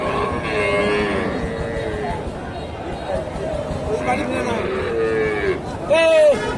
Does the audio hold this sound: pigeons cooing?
no